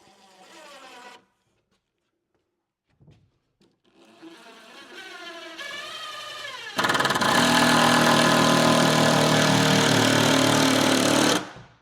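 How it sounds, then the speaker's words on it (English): A power drill drives into a wall stud in a garage shop, a short whirring spin-up followed by a loud, sustained buzzing grind for several seconds that then cuts off abruptly. "Just drill right in there."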